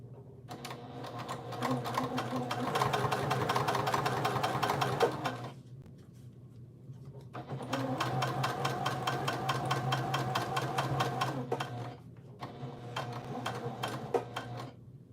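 A sewing machine bastes a modified Catalina inside panel in two long runs of rapid, even stitching, each about four seconds, separated by short pauses, then a briefer burst at the end.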